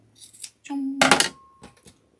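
Scissors cut fabric scraps for a mug rug in one quick crisp snip cluster, close and fairly loud, with light handling noise around it.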